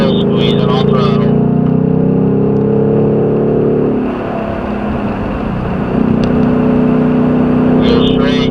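A Ford Mustang engine pulls hard on a road course, a loud, close, sustained drone that shifts pitch and dips briefly mid-way before building again, with a driver talking over it.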